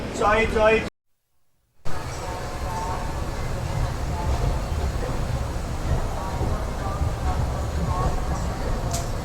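The Grand Trunk Express pulls into Hazrat Nizamuddin station. A steady low rumble of the train carries on for several seconds after a brief cut, with voices heard faintly at the start.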